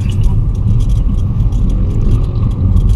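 A car accelerates during a driving lesson, giving a loud, steady engine rumble and road drone from inside the cabin. A voice can be heard under it.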